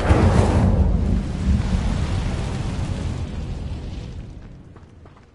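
Casting the Incendio fire spell in the video game Hogwarts Legacy produces a loud, rumbling burst of flame that roars at once and then slowly fades over several seconds.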